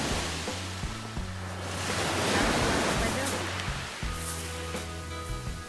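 Sea waves wash ashore, a broad steady rush of surf that swells and recedes at close range, while people talk over it.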